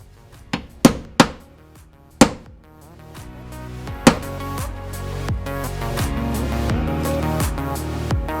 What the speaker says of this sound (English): I'm just gonna center punch as low as I can